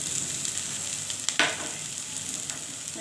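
Curry with red capsicum and milk fries in a pan, a steady close sizzle with a brief louder burst of spattering as it is stirred, no voices.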